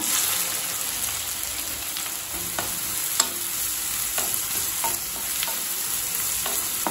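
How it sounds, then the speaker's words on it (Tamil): Steady frying sizzle with occasional scraping stirs of onions in a pan, a continuous hiss with soft clicks and taps throughout. "வெங்காயத்தை நல்லா கலர் மாறுற வரைக்கும் வதக்கிக்கலாங்க."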